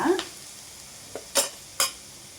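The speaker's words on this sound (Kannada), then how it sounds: "ಶುಂಠಿ, ಬೆಳ್ಳುಳ್ಳಿ. ನೋಡಿಪ್ಪ, ಇದು ಸ್ವಲ್ಪ ಚೆನ್ನಾಗಿ ಈ ಥರ ಬ್ರೌನ್ ಕಲರ್ ಬರಲಿ ಸ್ವಲ್ಪ." Ginger and garlic fry in hot oil until brown for a bamboo shoot sambar, a soft low sizzle under a few light scrapes and taps of a stirring spoon against the pan.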